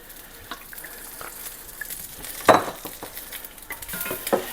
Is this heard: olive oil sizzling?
yes